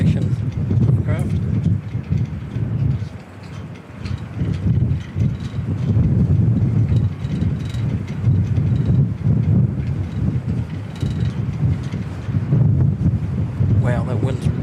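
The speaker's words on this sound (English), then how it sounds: "Wow, that wind's really ripping through now." Strong wind at an airport roars and buffets against the microphone in sustained heavy gusts, with a voice talking under it.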